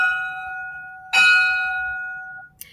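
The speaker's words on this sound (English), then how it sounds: "the bells are still working." A bell rings with a sustained tonal hum, then a second, louder strike rings out and decays slowly, followed by a brief faint knock at the end.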